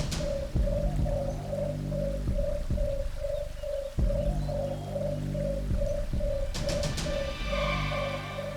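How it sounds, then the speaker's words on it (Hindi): A bird calls in a forest with a steady series of repeated soft cooing notes over a dense, droning ambient backdrop, with a brief high shimmer near the end. "कहीं ये पक्षी तो निशाचर पक्षी नहीं?"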